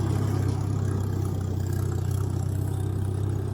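IH McCormick Farmall 350 tractor engine running at a steady low rumble, continuous and moderately loud with an even throb throughout, no voices.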